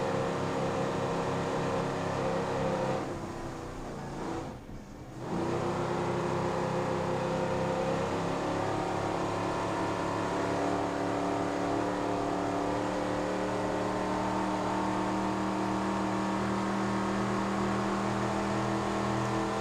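Racing powerboats at a competition accelerate with throttles opened, a loud, continuous engine roar that dips briefly around a passing moment and then surges back to a steady, sustained drone, with no talk.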